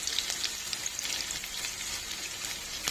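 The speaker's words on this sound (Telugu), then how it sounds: "ఇలా ఫ్రై అయిపోయిన తర్వాత ఇప్పుడు మనం చింత చిగురు వేద్దామండి దీనిలో." Tender tamarind leaves fry in hot oil in a pan, giving a continuous bright sizzle with light crackles and stirring, steady and close, with no speech.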